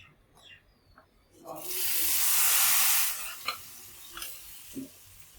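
Hot tempering of curry leaves and Kashmiri chilli powder poured into a jackfruit seed and raw mango curry, giving a loud sizzling hiss that swells for about a second and a half, then fades to faint clinks of the pan.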